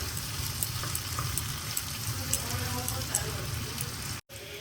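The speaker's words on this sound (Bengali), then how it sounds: "টমেটোগুলো একটু ভাজা ভাজা হোক।" Tomatoes frying in a pan give a constant soft sizzle with faint crackles, close and even, briefly cutting out near the end.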